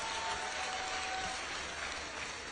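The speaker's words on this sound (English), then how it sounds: "So give yourself a big round of applause." Applause from a crowd at a graduation ceremony, a steady dense patter of clapping at moderate distance, continuous without pauses.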